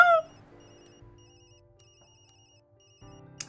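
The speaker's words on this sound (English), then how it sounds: "it's my work phone" Work phone ringing in the video game Tokyo Dark: a short, bright electronic ring bursts out at the start and fades quickly, leaving a quiet background hum.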